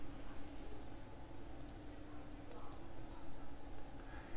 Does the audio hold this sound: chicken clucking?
no